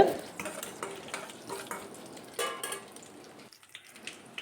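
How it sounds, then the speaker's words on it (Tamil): Mustard seeds and cumin dropped into hot oil in a kadai: quiet crackling and spluttering pops with light metal clinks of a spoon, fading near the end. "கடுகு சீரத்தை போட்டுக்கலாம் இது பொரியட்டுங்க"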